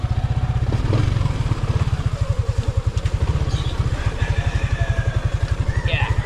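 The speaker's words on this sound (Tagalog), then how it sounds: "lubak-lubak road, walang lubak-lubak sa aking motor" Motorcycle engine running over a rough, pothole-filled road, a steady rapid low thumping pulse with rattling clatter throughout, loud and close, no talk over it.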